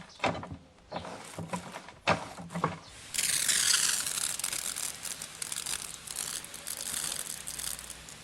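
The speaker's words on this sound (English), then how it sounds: "you can check how the hand sprayer works" A Lamira garden hand sprayer pump being worked by hand: a few clicks and creaks of the handle, then a sustained loud hissing spray that carries on to the end.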